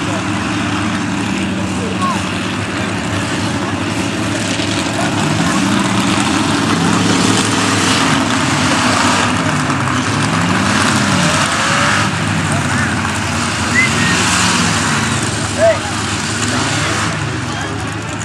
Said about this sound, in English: That Hot Wheels truck sounds badass.